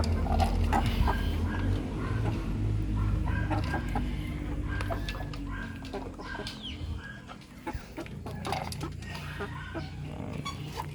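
Native cross hens and chickens cluck and chatter continuously on a farm, with occasional rooster sounds and faint background noise throughout.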